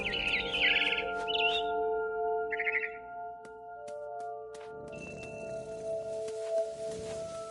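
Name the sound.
video game barn swallow chirping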